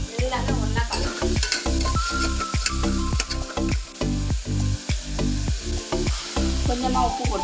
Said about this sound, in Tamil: எல்லாமே ஒன்றா கலந்து